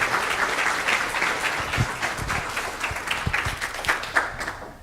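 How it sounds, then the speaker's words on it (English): An audience at a California Department of Health Care Services luminary series event claps steadily for the whole stretch, a dense patter of many hands with a few louder close claps standing out. "please join me in giving a warm round of applause to Karen Johnson."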